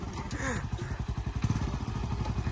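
A motorcycle engine runs close by with a rapid, steady pulsing throb and clattery mechanical knocks, loud and continuous throughout with no talk over it.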